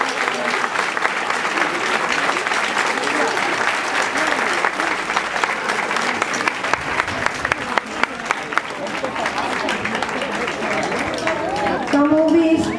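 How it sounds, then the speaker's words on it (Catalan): Crowd applause welcoming five caparrots, traditional big-headed festival figures, at their presentation in Son Carrió in 2015: a long, steady round of clapping from a sizable outdoor audience with a few sharper claps, and voices and whistles rising near the end. "Crec que n'és ben merescuda amb un fort aplaudiment."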